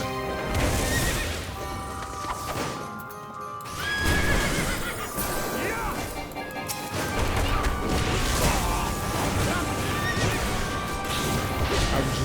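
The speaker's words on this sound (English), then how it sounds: "Another horsey." A horse in a Final Fantasy game neighs and whinnies over steady game music, with clip-clopping hooves and a few crashing hits mixed in.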